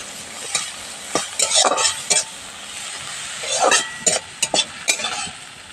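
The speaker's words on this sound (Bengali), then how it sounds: "ভালোভাবে লালচে করে চিংড়ি মাছগুলোকে ভেজে নিতে হবে" Shrimp frying in a pan with salt, sizzling steadily while a utensil stirs them in bursts of scraping and clatter; no one speaks.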